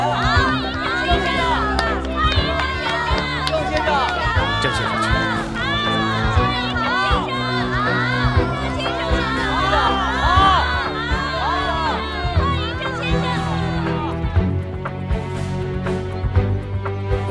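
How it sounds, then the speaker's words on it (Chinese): An audience welcomes a guest scholar with a steady roar of cheering and shouting voices, loud and close throughout, a continuous crowd din with no pause. "大家掌声欢迎！"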